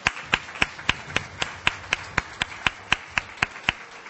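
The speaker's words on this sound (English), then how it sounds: "let's just thank them with another round of applause before we close" An audience claps in a steady, even beat to thank a drum circle at a Piscataway Conoy tribal dance and drum event. The sharp, close claps repeat about every quarter second with no talk over them.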